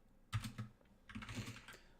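Brief burst of typing on a computer keyboard, two quick clusters of close key clicks with a short pause between, no voices.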